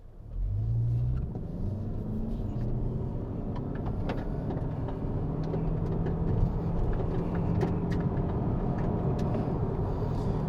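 A 2025 Toyota Camry XSE hybrid with eCVT accelerates hard from a standstill, its engine note holding as a steady, loud, continuous drone from inside the cabin with road rumble underneath and no talking.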